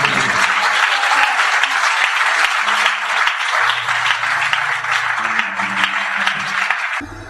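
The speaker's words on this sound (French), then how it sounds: "Acclamez-le. Acclamez-le." A church congregation applauding at a French-language service, loud sustained clapping from a large crowd close by, with faint voices beneath and a brief tail-off at the end.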